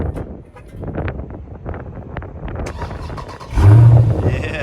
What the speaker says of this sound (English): 392 Charger Scat Pack